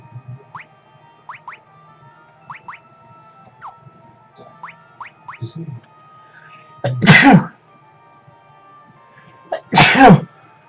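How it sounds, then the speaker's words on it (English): Two loud sneezes a few seconds apart, close by, over a quiet background of soft chiming jingles from the game Final Fantasy 3. "Sorry about the sneezes, guys."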